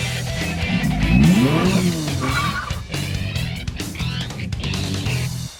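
A Dodge Durango R/T's naturally aspirated 5.7-litre V8 revs up hard, then holds a loud, throaty roar close by before settling into a steady drone, with no talk over it.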